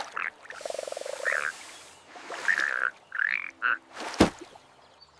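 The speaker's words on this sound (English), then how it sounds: "What about the big boss frog?" A cartoon frog in a Peppa Pig 3D animation croaks in several separate bursts, close and fairly loud, with short pauses between calls and a sharp click near the end.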